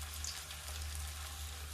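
Cabbage koftas sizzle in shallow oil over a very low flame: a steady, soft, crackling fry with a low hum underneath and no voices.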